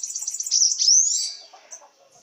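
A caged sibite bird sings close by, opening with a quick run of rapid high chirps that slide into a bright, drawn-out whistled trill, then fade into softer, scattered notes.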